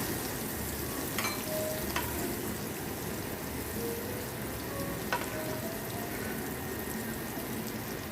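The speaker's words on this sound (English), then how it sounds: "I'm going to strain out just a little bit of this grease that I created in here" Bacon grease sizzles steadily in a pan as some of it is strained off, a dense crackling hiss that runs unbroken with a few faint metallic clinks.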